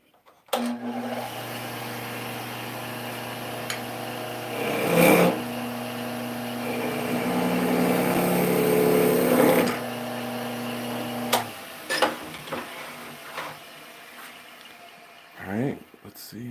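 A pulley-driven machine runs at a set speed with a steady whirring hum and tonal whine, then winds down and leaves scattered knocks and clicks; voices are faintly present.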